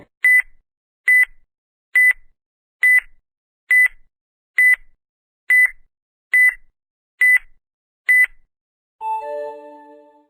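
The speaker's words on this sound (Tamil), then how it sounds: "உங்களுக்கான 10 செகண்ட் டைமர் ஸ்டார்ட் ஆகுது." A countdown timer gives ten evenly spaced sharp electronic beeps about one second apart, then ends on a longer, lower closing tone, loud and clear against silence.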